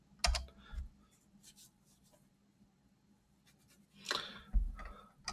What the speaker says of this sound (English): I should program more with this keyboard.